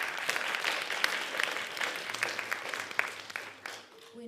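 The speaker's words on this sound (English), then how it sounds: "Can we give them another round of applause, please?" An audience claps steadily through a round of applause at a children's Easwaramma Day celebration. The clapping is dense and continuous, fades toward the end, and a voice briefly begins over it.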